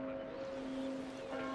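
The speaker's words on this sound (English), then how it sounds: "The bell! It's starting!" A bell rings in Assassin's Creed Black Flag, heard as a steady tolling tone with lingering resonance, faint under ambient background noise.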